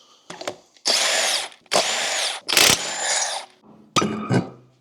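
A power tool works on a wheel of a Pontiac Vibe or Toyota Matrix during a rear strut job, with three loud, close whirring bursts of about a second each, followed by a short rattly burst after a pause.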